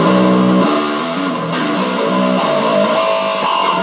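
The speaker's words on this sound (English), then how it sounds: "Then there is a metal amp, which really emphasizes the mid-range of the distortion." Heavily distorted electric bass through a Boss ME-70 multi-effects unit on its metal amp setting, with strong mid-range emphasis, playing a loud, steady sustained riff alone.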